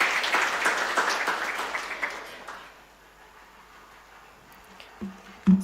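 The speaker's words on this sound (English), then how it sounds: "Let us welcome her with a clap" Audience applause welcoming a speaker, an incoming Harvard freshman, at a 2024 Global Airlift commissioning event; brief clapping that fades out partway, leaving quiet room tone and a couple of soft knocks near the end.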